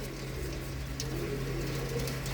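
Large pigeons kept by a Punjabi pigeon fancier coo softly and continuously, a low murmuring burble close by, with faint engine noise in the background.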